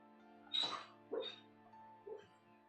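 A sleeping dog whimpers, three short high-pitched whines spaced about half a second apart, fading softly each time against a quiet indoor background.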